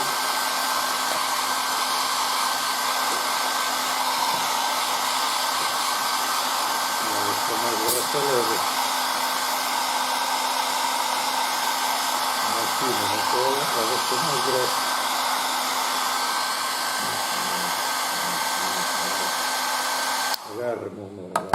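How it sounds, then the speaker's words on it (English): A hair dryer blows steadily and loudly for a long stretch, its tone wavering slightly, then cuts off abruptly near the end. "my hair dryer"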